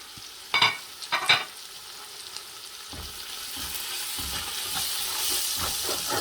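Ground coriander, garam masala and turmeric roasting in a pan for fish biryani, giving a steady, soft sizzle that builds after a few brief clatters of stirring.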